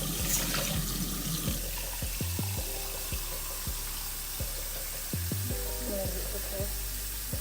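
Tap water running and splashing into a cooking pot for rice, a steady rushing pour with clinks of the pot, set in a home kitchen with some background noise.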